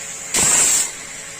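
Pressure cooker on the stove cooking rice lets off one short, sharp burst of hissing steam with a shrill whistle tone, about half a second long and close by, no voices.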